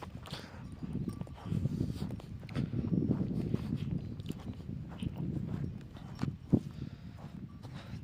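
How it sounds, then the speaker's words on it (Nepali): Horses come walking along a mountain trail in Nepal, hooves clip-clopping in an uneven, moderately close rhythm over rustling outdoor background with no clear talk. "आउँदैछ घोडा"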